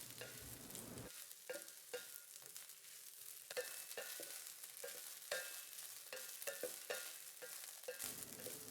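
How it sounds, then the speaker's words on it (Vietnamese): Egg fried rice is tossed and stirred in a hot pan, with steady sizzling and frying under repeated scraping and clattering strokes, close and continuous, with no talking. "Cho trứng vào. Đảo đều nhanh tay."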